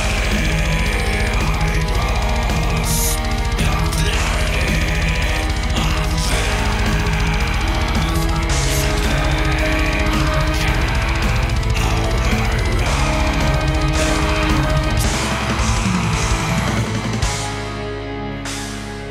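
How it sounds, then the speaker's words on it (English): A full demo song built entirely with free VST plugins plays loudly and continuously, with dense electronic drums, bass and layered synths throughout, then fades near the end, with no talk over it. "With only free VSTs you can make a song sound like this."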